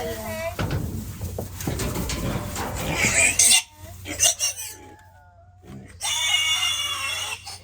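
A piglet in a farm paddock lets out loud, shrill squeals in several bursts, with people talking over and between the cries.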